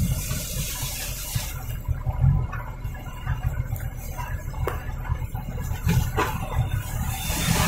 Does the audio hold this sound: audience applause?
no